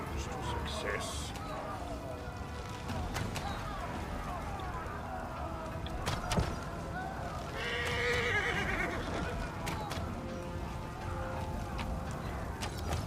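Horses whinny and hooves clatter in a video game, mixed into a busy, chaotic game soundscape with voices speaking over much of it.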